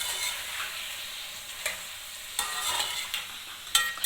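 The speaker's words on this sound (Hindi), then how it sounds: "चिकन को उस वक्त तक भूनना है जब तक ये लाइट ब्राउन ना हो जाए।" Chicken karahi with salt sizzling in a pan while being stirred, a continuous fry hiss broken by several sharp scraping knocks of the utensil against the pan.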